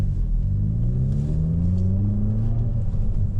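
A Hyundai i30N Fastback pulls away in first gear, its engine note climbing steadily from a low rumble to a higher drone, close and continuous with no talking over it.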